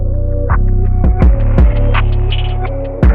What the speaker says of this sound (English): on my Wahl's Magic Clips with the number 1 guard, I'm going to go up about another ½ inch